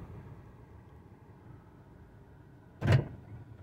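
A Nissan car's trunk, opened by remote release, slams shut once: a single loud, abrupt thump after several seconds of quiet outdoor background.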